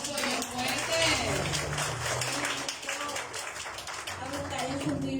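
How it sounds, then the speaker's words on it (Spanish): Loud applause from a church congregation, a dense patter of many hands clapping with voices mixed in throughout. "Aplauso bien fuerte"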